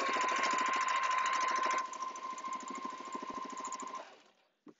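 A sewing machine stitches yellow polyester thread in free motion quilting, running loud and fast with a steady mechanical chatter for about four seconds, then stopping, followed by a brief faint knock.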